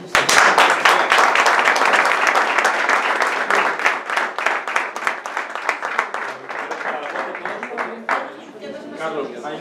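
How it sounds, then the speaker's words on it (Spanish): Loud applause for the cooks at a fabada competition, a crowd clapping hard and fast right away, continuing steadily with some voices mixed in, then tapering and breaking up near the end. "Entonces yo sí pido un fuerte aplauso"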